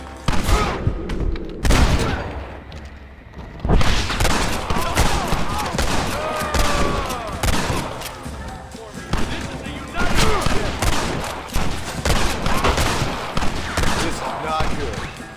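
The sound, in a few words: gunfire in the video game Red Dead Redemption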